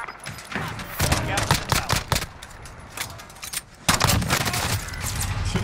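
Bursts of video game gunfire crackle in Call of Duty Warzone, rapid volleys and single shots in uneven clusters, with a short pause midway before louder firing resumes.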